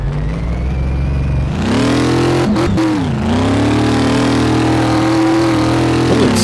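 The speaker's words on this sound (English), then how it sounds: "I wish somebody would come out with a sound pack for this game to clean up that supercharged motor" A supercharged 1966 Chevy C10 engine in the game Car Mechanic Simulator 2018 idles steadily, then revs up sharply with a couple of quick throttle blips, holding a loud, continuous synthetic drone with no talking.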